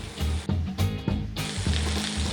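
Chicken sizzles steadily in a hot pan, a loud crackling hiss broken by a few brief shifts and pops as pieces settle or are turned.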